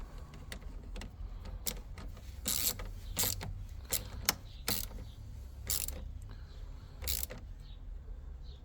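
Bolt being threaded by hand onto the 12V battery bracket of a Toyota C-HR Hybrid, a series of brief close metallic clicks and scrapes over a low steady background hum.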